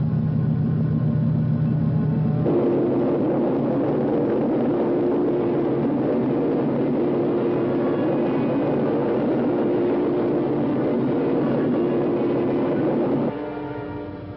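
Spaceship engines in a 1960 science-fiction film rumble as a steady, loud, dense roar that shifts in pitch partway through and thins slightly near the end, with no voices over it.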